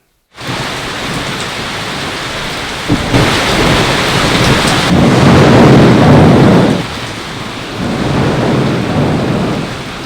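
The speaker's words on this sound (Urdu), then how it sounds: "تیز ہواؤں کے ساتھ ہونے والی موسلا دھار بارش نے موسم کا انداز یکسر بدل کر رکھ دیا" Torrential rain with strong winds in a thunderstorm over the twin cities, a loud, steady downpour roar with a rumble of thunder swelling midway, then easing slightly before building again.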